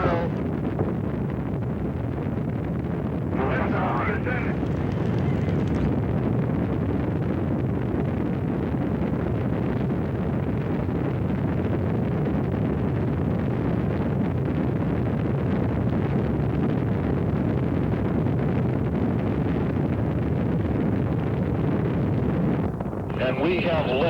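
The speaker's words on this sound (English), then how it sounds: "We have liftoff of America's first space shuttle." America's first space shuttle lifting off, its rocket engines giving a continuous, heavy, wide roar that holds steady and loud the whole time, with a broadcast voice faintly in the mix.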